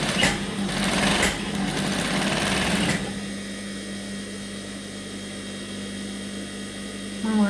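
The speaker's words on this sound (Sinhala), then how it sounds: "පොකට් කටවල් දෙකේ වාටි මහනවා" A sewing machine hems the pocket openings of a shirt blouse with a fast, loud mechanical whirr for about three seconds, then a lower steady motor hum continues, with a brief burst of stitching again near the end.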